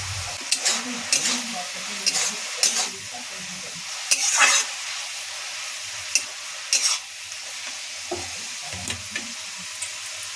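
Green chilli, ginger and cumin paste sizzles and fries in a pan while a spoon stirs and scrapes in irregular bursts, close and fairly loud, with no talking.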